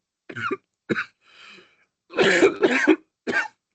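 Several dry coughs and throat clearings come in short bursts close to the microphone, a pair of quick ones, a soft rasp, then a louder cluster and a final single cough.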